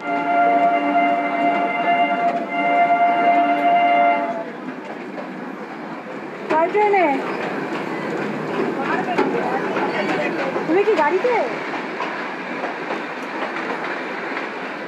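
A Darjeeling toy train running on rails between Darjeeling and Ghum, with a loud continuous rumble and clatter of wheels on track, a sustained horn blast at the start and squealing wheel screeches partway through.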